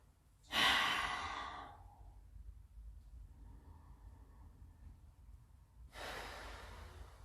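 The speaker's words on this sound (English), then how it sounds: "Extend the arms forward, and your forehead is on the mat or the floor, and you're just breathing." A person lying with forehead resting on a yoga mat in a beginner yoga session breathes slowly, one long soft exhale followed by quiet stillness and the start of another breath, close and faint.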